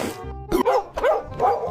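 A dog barks in three or four short, sharp bursts close by, with brief pauses between them and no talking.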